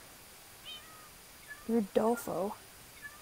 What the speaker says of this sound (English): Look at all the cats!